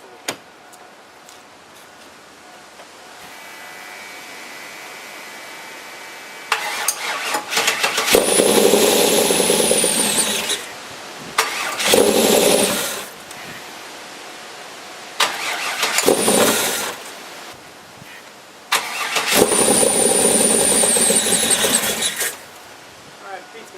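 An LS7 V8 swapped into a Chevy S10 starts for the first time: starter cranking, then four loud roaring bursts of the engine catching and revving before dying, separated by short pauses, close by.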